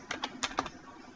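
Computer keyboard typing: four soft, quick key clicks close together, faint against quiet room noise, with no voices.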